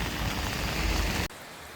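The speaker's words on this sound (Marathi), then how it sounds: "वरोरा शहरात आज गुरुवारी सकाळपासून मुसळधार पाऊस जो पडत आहे" Heavy rain pours over Warora town, a dense, steady hiss of water that runs loud and unbroken for over a second before cutting abruptly to a much quieter wash.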